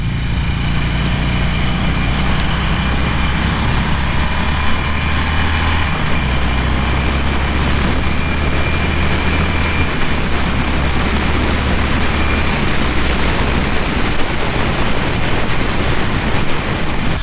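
A 2017 Harley-Davidson Sportster Roadster accelerating on the road, heard as a continuous loud low engine roar mixed with heavy wind rush, steady throughout with no speech.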